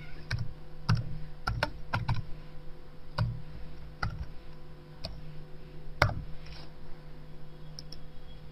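Fingers type a password on a computer keyboard, sharp irregular key clicks scattered in small bursts against a low steady hum, close and fairly quiet, with no talking.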